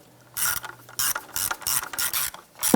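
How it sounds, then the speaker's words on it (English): A ratchet tightens the power steering reservoir retaining nuts on a 2005-2007 Ford Five Hundred, giving about six rapid clicking pulls in a steady rhythm, close and clear with no talking. "Just tighten down the reservoir retaining nuts here."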